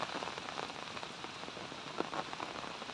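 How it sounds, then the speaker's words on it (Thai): Rain falls steadily at home, a constant close hiss of drops striking surfaces with occasional louder splashes, no voices. "ว้าวบรรยากาศฝนตกนะคะ"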